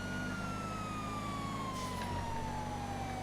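A gliding siren tone from an emergency vehicle in GTA FiveM, slowly falling in pitch over a steady engine rumble, close and continuous with no voices.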